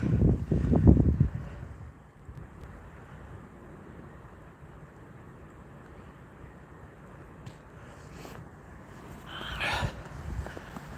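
Steady wind rushes and buffets the microphone, a broad low roar with a stronger gust at the start and again near the end.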